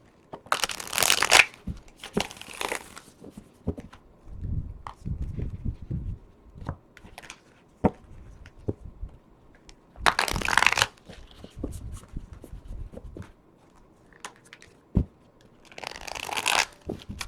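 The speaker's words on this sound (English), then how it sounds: "we're just going to go ahead and shuffle these cards." A deck of cards is riffled in several sharp bursts, with softer bridging and tapping sounds between shuffles.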